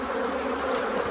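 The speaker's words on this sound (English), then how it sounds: "Shake the bees off." A dense, steady buzz of many honey bees as they are shaken off a brood frame at a hive. The loud, continuous hum sits close and unbroken.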